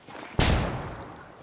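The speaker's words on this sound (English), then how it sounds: "Hey, throwing a flashbang." A flashbang grenade in the video game Ghost Recon Wildlands detonates with a single sharp, loud blast that trails off into a rumbling decay.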